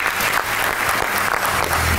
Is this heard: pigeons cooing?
no